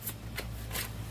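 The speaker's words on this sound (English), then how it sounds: "shuffle up the turn order deck" The turn order deck of cards for the board game Astro Knights is shuffled in a quick riffle, with three brief papery bursts close by during a play session.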